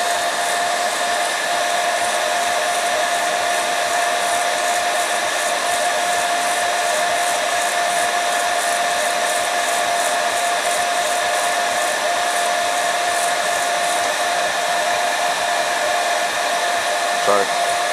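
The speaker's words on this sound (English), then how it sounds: "I'm going to move the heat gun a little closer." Heat gun blowing hot air at about 170 degrees onto a Spektrum AR500 RC receiver, a steady loud whooshing roar with a fixed whine, continuous and unchanging throughout with a brief knock near the end.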